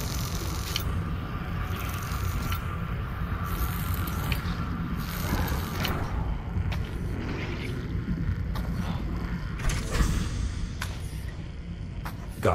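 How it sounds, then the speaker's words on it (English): Crane arm in the Lone Echo 2 game sounds out as a continuous mechanical whir and grinding with ratcheting clicks, steady and moderately loud throughout with no talk. "You should be able to move the crane, just like before."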